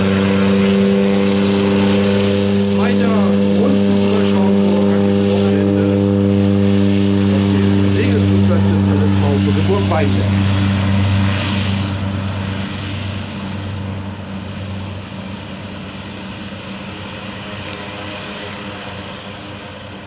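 An Antonov An-2 biplane takes off on a short runway, its radial engine a loud, steady roar that holds, then slowly fades as it pulls away.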